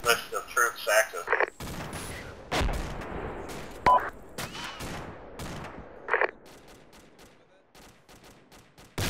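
Gunfire from a military shooter game, a mix of distant and nearby shots and bursts scattered across the scene, with voices talking over parts of it.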